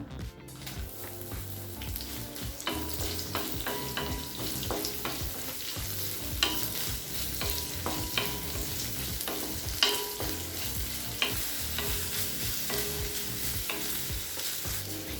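Steady sizzling of sliced onions frying in hot oil with fennel seeds for Kerala egg curry, with repeated scraping and stirring sounds throughout, close up and fairly loud.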